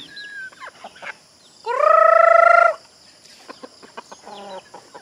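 Chickens clucking nearby, with one long, loud drawn-out call in the middle and short scattered clucks before and after.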